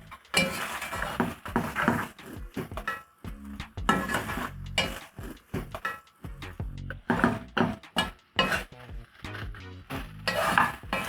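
Ossobuco is stirred in tomato sauce in a pot, with irregular scraping, clinking and wet sloshing strokes over a faint sizzle, close and continuous with no talking.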